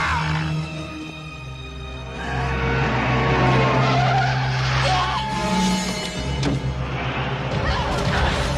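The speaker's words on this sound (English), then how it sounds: "our movie begins with a car accident" From the 1989 film Grave Secrets, a car's tyres screech in a long skid with roaring engine noise, followed by rough impact and crash sounds, loud and dense with some voice mixed in.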